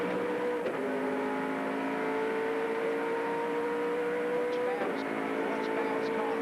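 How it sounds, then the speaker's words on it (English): A Ford small block V8 race car at full throttle onto the front straight at Lakeside during the 1997 V8 Supercar Championship, a sustained, loud engine roar with gear-change dips, heard from the in-car position. "listen to the roar of this Ford small block V8 as he gives it everything onto the mud front straight"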